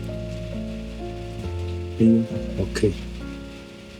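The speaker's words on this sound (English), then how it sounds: "it immediately started pouring rain" Heavy pouring rain drums on a surface outdoors in Uganda, a constant patter under steady tonal hum, with a short spoken word and a burst of louder splattering midway.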